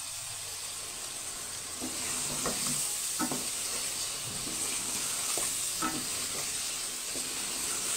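Whole cumin, dried coriander and turmeric roast in a frying pan with a steady sizzle and hiss, broken by the scrape and clink of a spoon stirring the spices.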